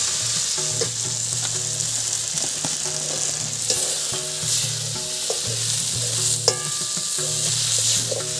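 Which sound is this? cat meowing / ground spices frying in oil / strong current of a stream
ground spices frying in oil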